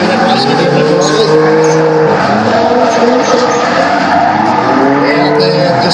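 A Nissan Skyline drifts hard around a racetrack, its tyres squealing in long continuous howls over a steady, loud engine drone, with voices faintly audible beneath.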